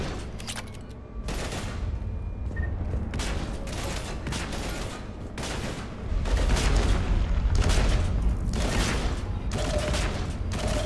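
Sustained gunfire in a video game, dense overlapping bursts of automatic shots and booms that grow heavier partway through, loud and continuous with no speech.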